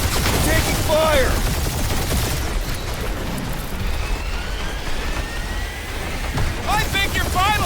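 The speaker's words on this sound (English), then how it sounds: "We're taking fire!" Gunfire during a Marvel's Guardians of the Galaxy battle: steady rattling shots and combat noise run continuously, with whistling, chirping effects near the start and end.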